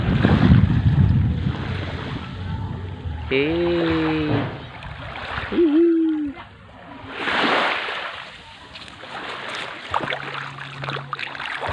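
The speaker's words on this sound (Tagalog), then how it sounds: "ito yung dagat" Sea waves surge and wash against a boat out on the water during a trip, in broad rushing swells with wind noise, while people talk and laugh nearby.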